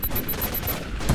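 Rapid gunfire from the PC video game Raven Squad, with several fast bursts close together forming a steady, loud fusillade of shots.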